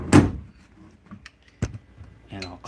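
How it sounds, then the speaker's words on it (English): The door of a CNC router enclosure in a woodworking shop shuts with a dull thump, followed by a sharper knock a moment later and faint rustling and voice sounds near the end. "close the door"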